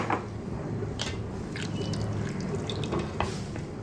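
Water splashes and drips as rice is rinsed for pitha, a soft continuous wet swishing with a few brighter drips and gurgles close by, without speech.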